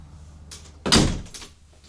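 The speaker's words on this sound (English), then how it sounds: "Let me close the door." A door is pushed shut indoors with one solid thunk and a brief rattle, close and fairly loud, with faint movement before it and no talking.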